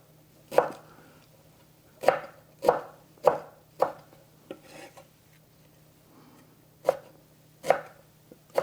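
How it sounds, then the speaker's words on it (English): A knife roughly chopping long dill stems on a cutting board, about nine crisp, uneven thuds spread over several seconds with quiet pauses between and faint handling noise. "chop them rough"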